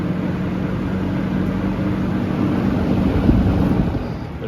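Vintage box fan with an RMR motor and three-blade set running on high, a steady close whooshing drone with a faint low hum, no voices.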